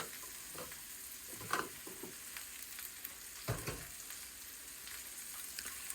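Red cooking wine goes into a hot pot for slow-cooked Easter lamb, giving a soft, quiet sizzle and hiss with two brief clunks of pot or utensil.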